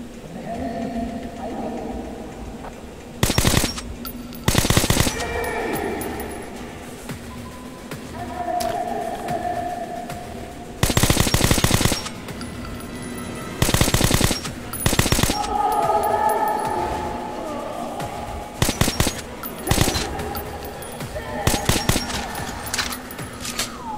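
Bursts of automatic gunfire from the Metro Last Light video game crack out in several loud, separated volleys between quieter stretches of in-game ambience and faint voices.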